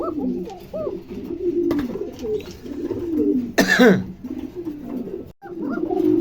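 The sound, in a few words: pigeons cooing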